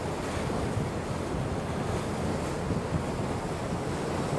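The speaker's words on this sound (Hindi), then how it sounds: "अभी आइलैंड की तरफ से हट गए हैं तो हवा तेज़ हो गई है।" Strong wind buffets the microphone over the steady wash of sea waves on the open deck of a Krabi to Phuket ferry, a loud unbroken roar with no talk.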